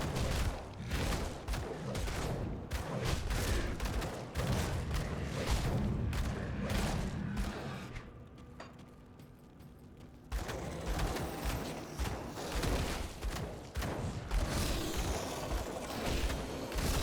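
Enemy gunfire from a boneback in the action RPG Grim Dawn, a dense burst of shots and impacts filling a large cavern, loud and continuous with a brief dip in intensity midway amid other combat effects.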